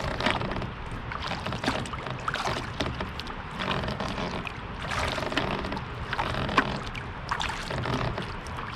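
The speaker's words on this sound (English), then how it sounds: "Dig the blade in a little bit, look at how much the boat turns." A kayak paddle blade digs into the water during a low brace turn, giving a continuous rushing, splashing wash with surging swells and a few sharper splashes, close and fairly loud throughout.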